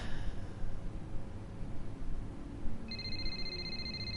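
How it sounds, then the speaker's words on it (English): A phone starts ringing in an F1 2021 video game cutscene, a steady electronic ring tone that begins near the end over a low, constant background hum. "Oh, phone's ringing."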